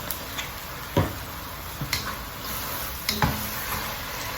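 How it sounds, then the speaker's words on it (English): Ground fresh chili paste frying in a pan, a soft steady sizzle with a few light taps and stirring clicks, close and quiet. "Going to add in some of this ground fresh chili paste."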